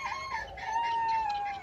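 Chickens on a small backyard flock cluck and crow close by, one sustained rooster-like call running through the middle over steady low farmyard noise, no talking.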